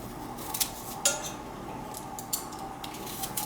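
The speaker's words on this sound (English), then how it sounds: "just cut them in quarters and take the center out like this" A knife cuts apple quarters and carves out the cores on a board for an apple pie, with a few light, crisp taps and clinks over soft kitchen background noise.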